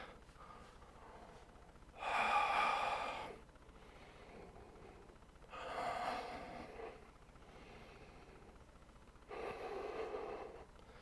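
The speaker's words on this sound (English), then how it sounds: "One more deep breath, as deep as you can." Three long, deep breaths during a yoga session, each a loud, airy rush lasting about a second, spaced several seconds apart with quiet between them, close up and with no talking.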